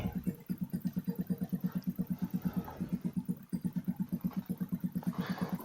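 A motorcycle engine idles at a steady, even pulse, heard fairly quietly and close, with one brief dip midway. No voices.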